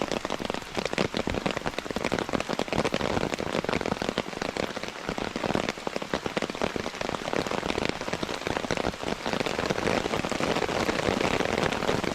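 Heavy rain drums hard and constantly on a kayak close by, a loud, dense, unbroken patter throughout.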